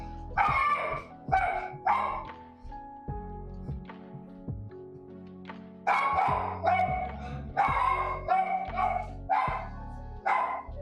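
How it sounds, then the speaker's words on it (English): A dog barks indoors in loud bursts, two rapid clusters of sharp barks separated by a short pause, with some whimpering tones between, close to the microphone. "dog is a menace. It's my sister's dog, actually."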